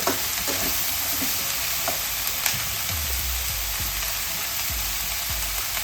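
Ingredients being mixed in a hot pan for a simple Kerala lunch make a continuous frying sizzle close up, with light spoon scrapes and taps scattered throughout and no talking.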